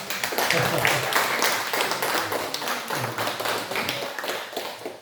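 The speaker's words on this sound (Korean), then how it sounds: "기쁜 마음으로, 환영하는 마음으로 우리가 힘찬 박수 한번 해드릴까요?" A church congregation claps in welcome during a Sunday service, a busy patter of hand claps and taps that runs throughout, with some voices mixed in.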